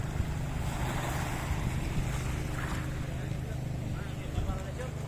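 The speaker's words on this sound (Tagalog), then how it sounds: "Medyo malakas na yung alon guys, so gawa ng bagyo." Constant rushing of rough, storm-driven sea waves and wind noise roars close to the microphone, with a boat's low rumble underneath throughout.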